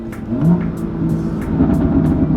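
A 2018 BMW M2 engine revs after a quick throttle blip, a steady close-up growl holding loud for a couple of seconds with a slight swell early on, no talking over it.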